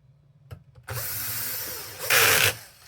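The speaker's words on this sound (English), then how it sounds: "And we can start screwing her back in." Screws being driven back into an Xbox Series X console case with a power screwdriver: a couple of light clicks, then a steady whir that surges louder for a moment before stopping.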